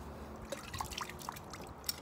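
Water dripping into a bucket while a bass clarinet part is rinsed, a few faint scattered drips and light splashes over a low background hush.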